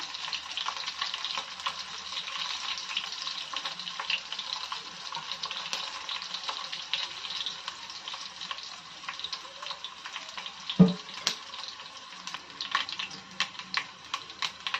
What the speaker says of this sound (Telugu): తెల్లగడ్డలు కొద్దిగా ఎర్రబడుతున్నాయి కదండి